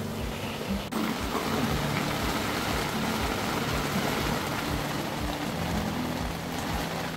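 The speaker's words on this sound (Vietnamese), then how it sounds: "Sinh tồn ở đảo hoang mà ngày đầu tiên đã gặp ngay trời mưa liên tục như này rồi. Mưa rất là to luôn." Heavy, continuous rain pours down on a desert island, a steady dense hiss of drops with a low rumbling undertone lasting throughout, no voices present.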